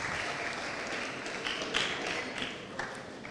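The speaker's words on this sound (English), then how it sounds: "Please join me once again in giving him another big round of applause." Audience at a high school students' conference in Mombasa applauding, a dense steady wash of many hands clapping at moderate distance, continuous and fairly even with a few sharper claps standing out.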